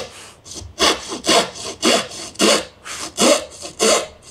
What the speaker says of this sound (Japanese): この小回りの効く、引き回しノコみたいなものがあるといいかと思います